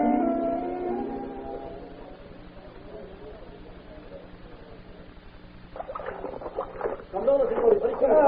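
A gondola is rowed on water as a sound effect in a 1935 radio drama. Soft oar strokes and water sloshes come in rhythmic bursts over a quiet, lo-fi background, following a brief musical or vocal passage at the start.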